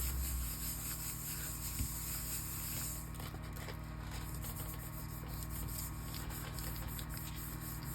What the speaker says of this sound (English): Rubbing through all those little spaces, picking up all that good paint.